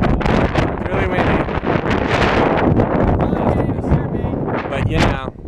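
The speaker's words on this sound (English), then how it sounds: "It's really windy." Strong wind gusts buffet the microphone on rocks by the ocean, a loud, rough roar throughout with people talking briefly over it.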